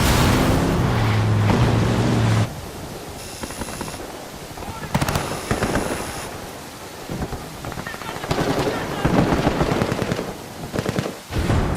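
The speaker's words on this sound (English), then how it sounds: "This camp is now erupting into a full gunfight between the rebels and the Santa Blanca." Video game gunfight in Ghost Recon Wildlands between rebels and Santa Blanca cartel fighters at a camp: dense bursts of automatic gunfire and booming shots overlap continuously, loud and chaotic with rumbling blasts throughout.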